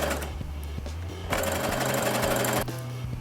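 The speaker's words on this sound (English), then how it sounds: "I'm just gonna go ahead and sew this" Sewing machine zigzag stitching hems on stretchy fabric for a pink shirt or dress, a loud close mechanical whir with a fast regular needle beat that shifts pace partway through.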